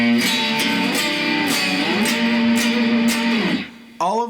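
Electric guitar playing a run of seventh chords with one shared shape slid up and down the neck after a hook phrase, sustained and ringing for about three and a half seconds before fading, with a brief strummed burst at the end.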